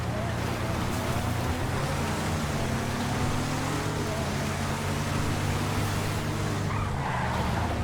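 Junebug buggy engine roaring continuously while driving off-road through snow in GTA FiveM, a dense steady drone with wind-like rush and no gaps.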